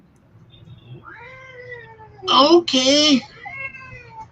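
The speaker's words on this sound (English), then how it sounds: "Oh, meow. Yeah. Demanding cat." A demanding house cat meows close by in a few drawn-out, rising and falling cries, one loud and strained, while a person briefly speaks.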